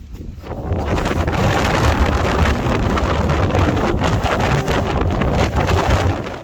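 Wind blowing outdoors on an Irish hike roars steadily across the microphone, a loud, constant buffeting rush that rises after a quieter first second and continues without a break.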